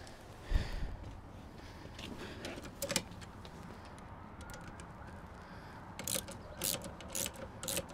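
A socket set ratchet tightens bolts while a RIB passenger swivel seat is fitted to a VW T6 Transporter, giving quiet, close bursts of rapid clicking with a metallic knock early on and several clustered ratcheting runs near the end.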